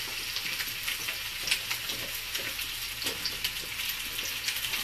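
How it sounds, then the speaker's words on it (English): Zucchini fries in a hot wok with a steady, crackling sizzle and scattered sharp pops, close and continuous with no talk over it. "So I'm going to throw in the zucchini first."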